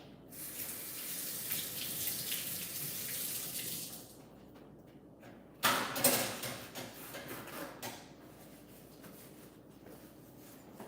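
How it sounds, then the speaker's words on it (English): A kitchen tap runs while someone washes their hands, a steady hissing stream for about four seconds, then a short burst of splashing and a few quieter trickles, all fairly faint and without speech. "let me wash my hands one more time"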